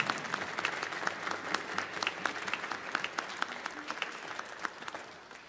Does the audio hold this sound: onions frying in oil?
no